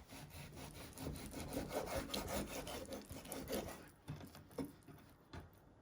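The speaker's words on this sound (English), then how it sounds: "So you're just finely slicing your meat." A knife slices beef into thin strips on a board, giving a series of soft, close rasping strokes that come in quick bursts and then grow sparser, faint and without talk.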